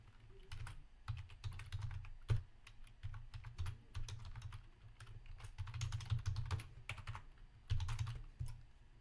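Soft, quick keystrokes on a computer keyboard as an email address is typed in while creating a GitHub account, steady irregular clicking at close range, fairly quiet and without voices.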